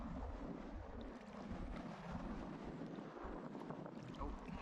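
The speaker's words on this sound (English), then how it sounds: "More strong gusts of wind battered me" Steady roar of strong wind gusts buffeting the microphone while fly fishing for trout in the McKenzie Country, with low rumbling gusts and no voices, continuous for several seconds.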